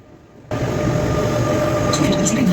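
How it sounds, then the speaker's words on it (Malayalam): A double-decker train bound for Mechelen at a European city station rumbles in with a sudden steady roar, a loud, continuous rolling drone with faint metallic clicks and squeals on top. "നമ്മുടെ മെക്കലിലോട്ട് പോകുന്ന ട്രെയിനാണ്"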